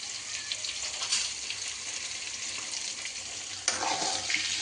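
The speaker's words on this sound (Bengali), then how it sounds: "আলুটা ভালো করে লাল করে ভেজে নিতে হবে।" Potato pieces frying in hot oil with turmeric and ground cumin-coriander, a steady close sizzle with crackling spatters and a brief louder burst of stirring near the end.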